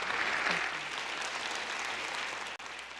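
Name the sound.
audience applause for panel speakers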